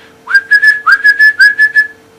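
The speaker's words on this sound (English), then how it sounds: "we've got the sound of the whistle" A gundog training whistle blown in a rapid series of about eight short, shrill pips, grouped in three quick bursts, loud and close against a steady faint hum.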